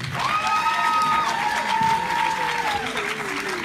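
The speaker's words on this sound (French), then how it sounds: "On applaudit pour elle, s'il vous plaît." An audience at the Miss Afrique 2019 pageant applauds in a continuous wash, while a sustained, wavering high-pitched vocal call or ululation rides over the top for several seconds.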